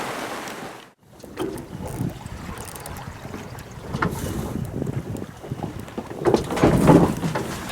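A sailboat under a single-reefed mainsail moves through the sea on Italy's west coast, with gusty wind buffeting the microphone, water rushing along the hull and creaking, surging bursts.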